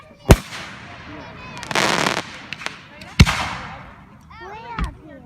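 Fireworks shoot off at an outdoor pyromusical show, with sharp booming launches and crackling bursts echoing at a distance, separated by short gaps, while people talk nearby.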